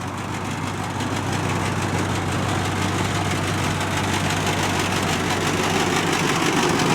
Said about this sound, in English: The motor sounds great, plenty of power.